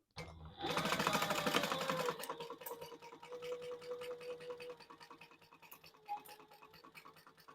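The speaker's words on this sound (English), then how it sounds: "And sew that with a full seam allowance." A sewing machine stitches a seam on a crossbody bag, with a close, quiet fast whirring run of stitches at first, then slower, lighter mechanical clicks and hums.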